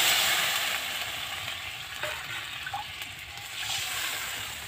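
Hot water hits a frying pan of browned garlic and charred radhuni seeds, setting off a close hissing sizzle that gradually settles into quieter bubbling.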